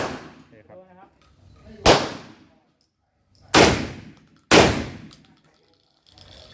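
Benelli shotgun, M2 SP or Nova Speed with a 24-inch barrel, fired outdoors, giving three loud, sharp blasts, each followed by a decaying echo, with a faint voice beforehand.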